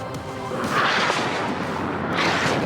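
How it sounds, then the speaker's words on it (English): Explosions and artillery fire from a WARNO real-time strategy battle, a dense layered rumble of booms and impacts continuing throughout at steady loudness with no speech. "look at the amount of explosions and units which have died down here."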